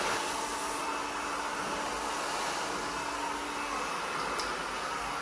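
Hair dryer running during a volume blowout styling session at a salon, a constant faint broadband whoosh with no pauses, heard alone at a steady level throughout.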